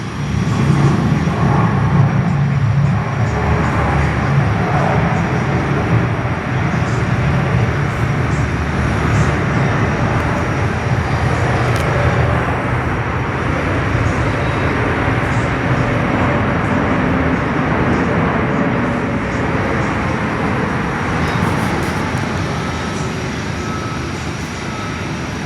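A large passenger jet at Perth airport landing and braking hard to a quick stop, a loud, sustained broadband engine roar with reverse-thrust rumble holding steady throughout, heard from an indoor viewing area.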